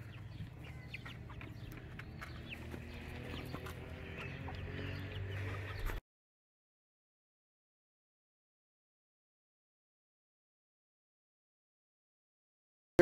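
Big white broiler chickens clucking softly in a coop, a low continuous murmur of clucks for about six seconds before the sound cuts to silence.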